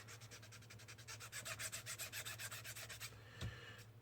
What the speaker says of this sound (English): I'll just sand a little spot here and give you an example